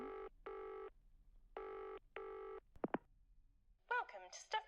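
A telephone rings in the video game Nick & Wilkins, with four evenly spaced bursts of a bright electronic tone that stop when the call connects, followed by short chirps and an answering voice.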